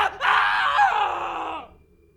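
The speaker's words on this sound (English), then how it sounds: "he begins to scream" A man screams in an audio drama, one long strained cry that rises sharply, holds loud and close for over a second, then fades away into quiet.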